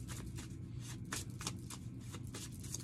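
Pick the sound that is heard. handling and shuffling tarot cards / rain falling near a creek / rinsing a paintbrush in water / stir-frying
handling and shuffling tarot cards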